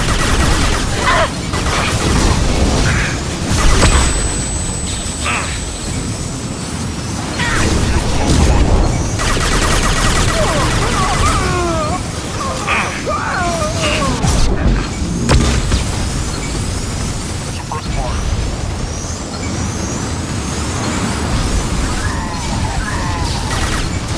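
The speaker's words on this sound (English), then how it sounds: "Watch out, flashbang!" Mass Effect 2 combat with a flashbang grenade bursting among mercenaries, loud booms and crashes amid scattered gunfire and mechanical clatter, dense and continuous for over twenty seconds.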